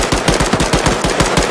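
Rapid automatic gunfire in the video game Arma 3, a loud, close, evenly spaced burst of about a dozen rounds with no pauses or voices.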